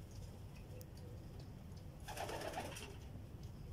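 A racing pigeon coos at a loft during a hard pigeon race in Caba, La Union, a soft, brief burst of throaty cooing amid faint background noise.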